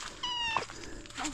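A house cat meows clearly at close range, one drawn-out call followed by a shorter, fainter one, with quiet background noise around them.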